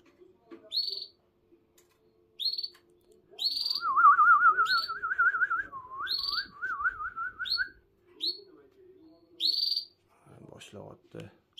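A canary sings alone at close range: bright, repeated high chirps broken by a long, rolling warbled trill, with gaps of quiet between phrases.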